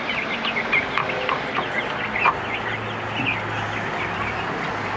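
Roosters cluck and chatter near at hand in a rural Philippine yard. The short overlapping calls come in quick irregular bursts over a low, steady background hum.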